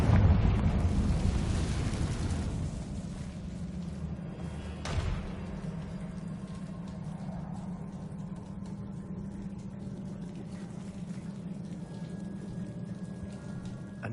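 A Confringo fire spell blast in Hogwarts Legacy, a booming rumble swelling at the start then settling into a steady low roar with a second thump midway, no speech.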